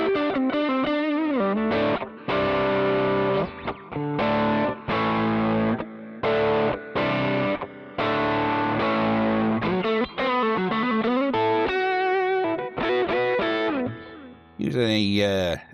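Klon overdrive pedal driving a Fender Silver Sky guitar on single-coil pickups, gain near 3 and tone just past middle: loud, crunchy chords and notes in short phrases with brief gaps, heard alone.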